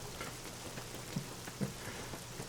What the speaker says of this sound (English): Oh, great, now it's raining.